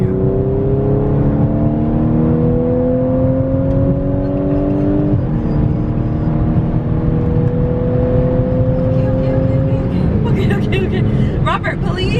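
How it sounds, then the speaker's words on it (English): Car engine in sport mode revving up as it accelerates, with rising engine tones that drop and climb again as the automatic transmission downshifts and upshifts, steady and loud inside the cabin with a voice talking over it. "When you have it in sport, it automatically like downshifts for you."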